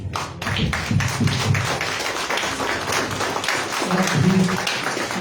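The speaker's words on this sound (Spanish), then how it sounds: "no me queda más que darle otro aplauso" Audience at a cultural gathering in Tultepec, Mexico applauds a teacher, a dense burst of hand clapping running steadily throughout, close and moderately loud with a faint voice underneath.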